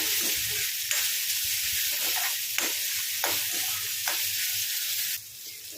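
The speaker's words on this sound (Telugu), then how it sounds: "ఒక 2 minutes ఫ్రై కానివ్వండి, సరిపోతుంది" Food fries steadily in a pan with a constant bright sizzle, broken by several sharp scrapes of a spatula stirring at roughly one-second intervals before the sizzle drops off near the end.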